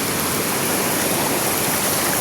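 Cabinet Falls in Lucban, Quezon, pours in a constant, loud, broadband roar of rushing water, heard up close with no break and no voices.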